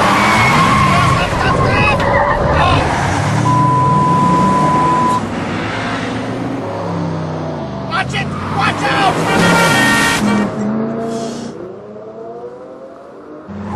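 A car is driven fast and skids near a gate, with loud engine and tyre noise running throughout while people shout over it.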